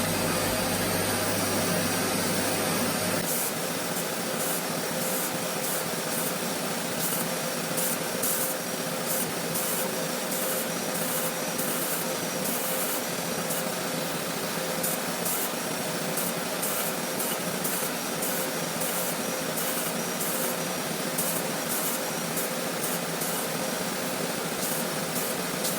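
A CPM154 steel knife blade is ground on a 240 grit abrasive belt, giving a loud continuous hissing rasp with a deeper motor hum in the first few seconds, then a steady bright grinding noise with faint periodic ticking.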